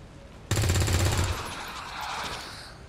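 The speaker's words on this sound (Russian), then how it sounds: "Выстрел." A sudden burst of rapid gunfire in XCOM 2: War of the Chosen, loud and close, lasting under a second before trailing into a fading echo.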